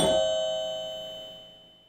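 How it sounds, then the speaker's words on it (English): Homebrew Star Wars pinball machine chime: a single bright struck bell tone that rings out and slowly decays over about two seconds, heard alone. "Yeah, it's just chimes."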